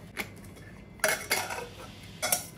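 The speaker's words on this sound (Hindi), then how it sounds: "अब कुकर को हमने साइड कर दिया है।" A pressure cooker and cooking pots are shifted aside on a kitchen stove while making chicken egg fried rice, giving a few sharp metallic clanks and scrapes close by.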